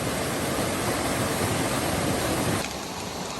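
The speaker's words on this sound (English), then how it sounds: "Check out these waterfalls right next to the trail." Waterfalls tumbling right beside the Appalachian Trail in the 100 Mile Wilderness, a steady, loud broadband roar of rushing water that drops slightly in level near the end, with no voices.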